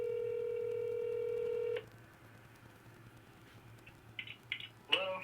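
A phone call is redialed after a dropped call: a steady electronic tone holds for nearly two seconds, then quiet, then a few short bright dialing beeps and a burst of ringing near the end.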